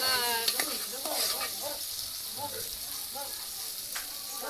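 Vala masala roasting in a pan, a steady hiss of sizzling oil with occasional stirring scrapes, close and fairly loud, while a voice talks briefly over it.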